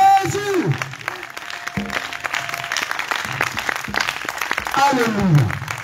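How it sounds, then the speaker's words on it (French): A congregation at an intense evening healing prayer service acclaims Jesus with loud clapping and cheering, while raised voices shout and call out over the applause, building to a stronger swell near the end. "Acclame Jésus."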